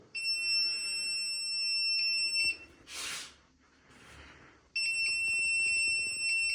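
High-pitched electronic beeping from a hidden camera and bug detector pulses in fast steady bursts, pauses briefly amid a rustle of handling noise, then resumes just as shrill.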